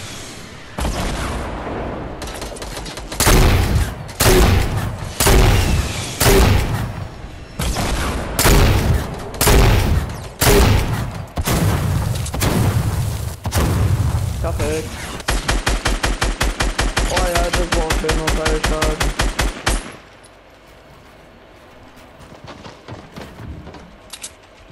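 Gunfire in Fortnite rings out in heavy, sharp bursts of shots, then a long rapid automatic stream before it cuts off, leaving faint scattered game noise.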